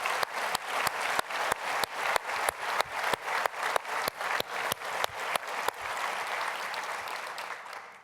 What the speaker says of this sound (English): I'd like a round of applause for KB and Bob.